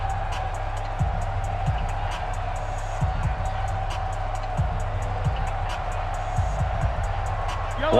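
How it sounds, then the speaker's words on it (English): Stadium crowd noise in the Madden NFL 20 football video game, a steady roar of fans building before a big third down, heard as a constant wash with repeated ticking sounds over it. "the crowd getting into it as we come up on a big third down"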